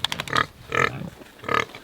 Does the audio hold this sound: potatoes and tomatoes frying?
no